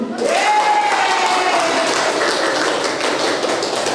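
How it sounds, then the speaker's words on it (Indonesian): A group claps together at a school teachers' gathering, a steady loud wash of applause lasting several seconds with a brief whistle-like tone early on. "kita tepuk tangan dulu"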